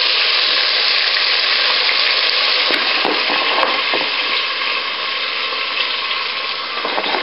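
Chicken breast sizzling and frying as it is spooned into a curry pot, a steady, loud hiss filling the whole clip with a few soft scraping clinks of the spoon.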